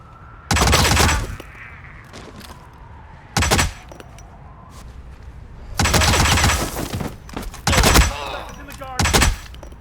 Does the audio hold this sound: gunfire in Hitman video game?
yes